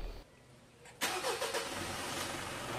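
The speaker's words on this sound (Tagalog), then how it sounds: "start ko na itong makina mga boss." A Mitsubishi Montero engine cranks briefly, then catches and settles into a steady, close idle, after repair of a slight misfire.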